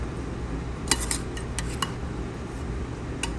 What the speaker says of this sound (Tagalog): halo pa, halo. Para maluto lahat yung gulay.